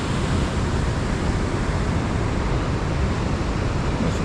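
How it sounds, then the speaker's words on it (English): A waterfall along the John Muir Trail near Yosemite gives a dense, steady roar of rushing water, constant and fairly loud for the whole stretch, with no voices. "waterfall."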